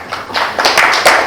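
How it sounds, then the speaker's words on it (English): A short burst of a few people clapping in a hall during an opening address at a public forum, sparse, uneven claps close by. "You deserve a round of applause"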